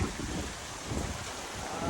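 Steady rain hisses under gusty wind, with low rumbling buffets against the microphone throughout.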